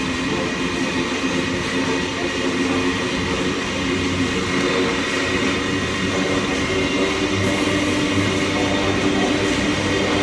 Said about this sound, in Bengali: কত বড় গো ট্রেনটা।